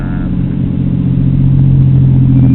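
Toyota Supra, likely a 2 or 3 litre engine, running at a hillclimb: a deep, steady engine rumble holding a low droning note, rising slightly in intensity, heard from a moderate distance.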